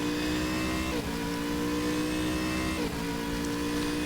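A GT3 race car in Stock Car Extreme at the Red Bull Ring accelerates hard with wheel spin, a loud, steady, high-revving engine drone with two brief dips where the pitch shifts, and no voices.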